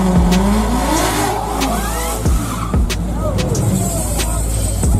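A fast car revs and races past under loud, continuous engine roar with rising and falling pitch sweeps, while voices talk over it.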